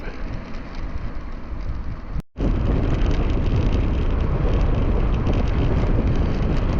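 Strong wind roars across a cyclist's microphone while riding with a tailwind through France, a dense continuous rush broken by one brief drop-out.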